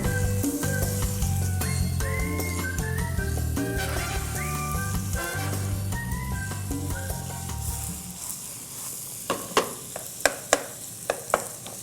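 Ingredients sizzle steadily in a pan with red onion as the base for a tomato bread soup casserole, a continuous frying hiss that thins out near the end and gives way to a few sharp taps and clinks.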